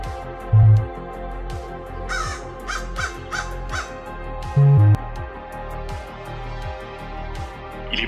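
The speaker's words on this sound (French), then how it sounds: "Le corbeau partira le premier, fera des allers-retours jusqu'à ce que la terre soit sèche." A raven caws several times, the harsh calls spread out over a steady low droning background.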